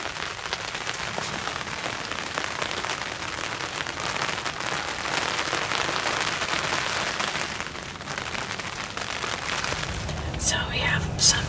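Steady rain patters on surfaces around a turkey hunting blind in Kansas, a dense continuous hiss with a few sharper taps near the end.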